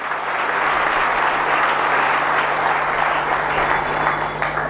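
Sustained, dense audience applause filling a hall at a youth motivational seminar held for a Gayatri Pariwar golden jubilee, loud and steady throughout with no break.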